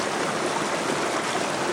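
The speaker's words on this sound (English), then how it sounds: "this is the top of the falls on Devonport Creek" A waterfall at the top of the falls on Devonport Creek, in a rocky bushland setting, sends out a steady, dense rush of water, constant and unbroken with no voices.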